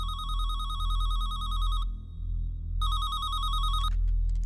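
A phone line rings after a call is dialed to a university: two long electronic warbling ring bursts separated by a short pause, heard clearly with no talking.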